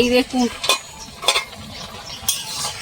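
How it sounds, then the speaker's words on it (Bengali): Taro leaf (kochu shak) curry is stirred in a pot, a few distinct scraping and sloshing strokes of the spoon against the pot over a low simmer, close by, with a brief spoken phrase at the start. "একটু নেড়ে দেবো ভালো করে।"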